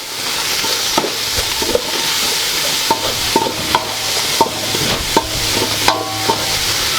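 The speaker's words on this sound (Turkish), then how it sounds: "Soğan ve eti kavuracağız." Steady sizzling of onions and meat frying in a hot pan for an eggplant dish, with scattered clinks and scrapes of a utensil stirring, loud and continuous throughout.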